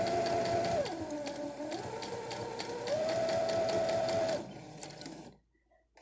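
A sewing machine runs in a steady, fast whir while stitching a tote bag repair, shifting pitch briefly before stopping near the end, close and fairly quiet with no speech.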